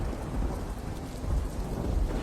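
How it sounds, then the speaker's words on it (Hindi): Thunder booms loudly through a rainstorm in a sustained deep rumble, with steady rain hissing underneath the whole time. "तभी आसमान में जोर से बिजली कड़की"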